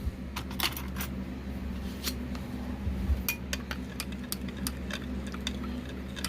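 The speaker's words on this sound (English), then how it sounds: "Stir that up." Soft plastic mixed with hardener and heat stabilizer is stirred in a container, making faint, irregular clinks and taps over a low background hum.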